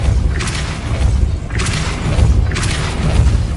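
Depulso force spell cast in the video game Hogwarts Legacy, three loud booming blasts spaced about a second apart, each a sharp burst with a quick decay over a low rumbling background.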